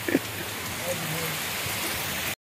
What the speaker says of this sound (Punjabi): ਚਲੋ ਤੂਫਾਨੀ ਬਾਰਿਸ਼ ਆ